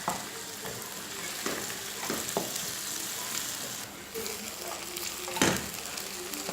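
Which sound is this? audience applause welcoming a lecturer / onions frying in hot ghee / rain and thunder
onions frying in hot ghee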